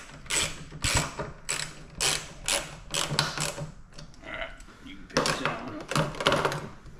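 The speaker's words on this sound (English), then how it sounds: "So now he's got me filming and ratcheting." A ratchet wrench clicks in quick rhythmic bursts, close and steady, while a carbon fiber halo is fitted to a C7 Corvette. Voices talk faintly around the ratcheting.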